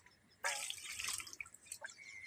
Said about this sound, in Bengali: ভালো জল দিয়ে আমি একে ধুয়ে নেব।